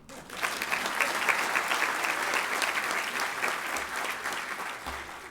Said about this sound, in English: You may applaud again